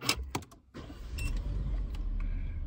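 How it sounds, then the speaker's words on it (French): A Peugeot 3008 engine cranks and catches after a few short clicks, then settles into a steady low idle rumble, close by. "je vais mettre le contact et mettre en route la voiture"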